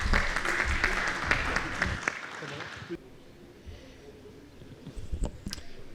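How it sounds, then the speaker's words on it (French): Audience at a French conference on sustainable mobility applauding, a dense burst of clapping for about three seconds that cuts off, followed by a quieter room with a few faint clicks. "on vous applaudit."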